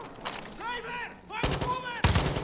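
Gunfire in the video game Far Cry 6 comes as a few short, loud bursts of shots, with a voice talking between them.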